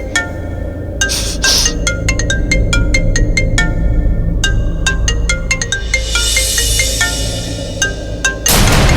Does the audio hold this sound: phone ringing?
yes